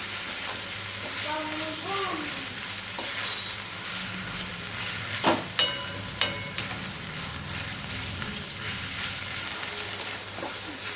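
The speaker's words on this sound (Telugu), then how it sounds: "ఇలా కలిపేసుకొని ముక్కలన్నీ ఒక 10 మినిట్స్ మూత పెట్టేసి మటన్ని మగ్గించుకుందాం" Mutton curry pieces sizzle and fry in a pan while being stirred, a steady crackling hiss with a few sharp scraping clicks of a spoon partway through; no one speaks.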